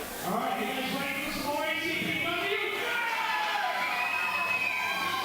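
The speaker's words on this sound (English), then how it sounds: "Crowd certainly sounds fired up for the second half of ACPW 5th anniversary show" A fired-up crowd cheers loudly and steadily at an ACPW wrestling 5th anniversary show, a dense wash of voices with scattered yells sustained throughout, no single speaker standing out.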